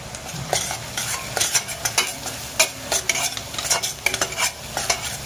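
Onion frying with garlic powder in a pan, stirred with a utensil: repeated scraping strokes in an irregular rhythm over a soft, steady sizzle, close and fairly loud, with no voices.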